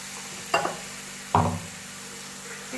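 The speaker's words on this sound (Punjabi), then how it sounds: "ਹੁਣ ਇਹਦੇ ਵਿੱਚ ਅਸੀਂ ਜਿਹੜਾ ਹੈਗਾ ਟਮਾਟਰਾਂ ਦੀ ਗਰੇਵੀ ਬਣਾਈ ਸੀ ਉਹ ਪਾ ਲੈਣੀ ਹੈ" Tomato gravy poured into a pan of sizzling spiced okra (bhindi), two distinct splashing stirs over a steady soft frying hiss.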